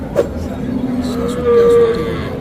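A crossbred bull calf at a busy cattle market lets out a loud, drawn-out moo over a steady murmur of crowd noise.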